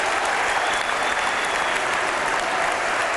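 A crowd applauds a Benfica goalkeeper's save during a rink hockey Super Cup match against Porto, dense continuous clapping from a large arena audience filling the space evenly.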